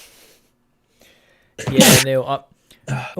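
A single loud sneeze bursts out close to the mic during a casual, drunken lockdown livestream, followed at once by a short burst of speech.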